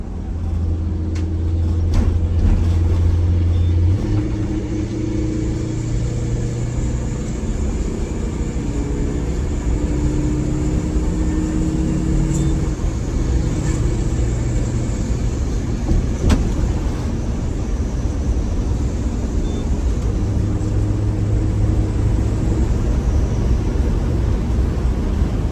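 A Prevost bus drives along during a brake inspection and test, with a continuous loud engine and road rumble and low tonal drones that shift over about 25 seconds.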